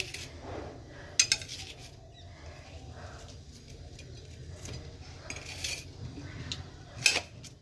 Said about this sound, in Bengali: এখন ওয়াটারমেলন কেটে দিচ্ছি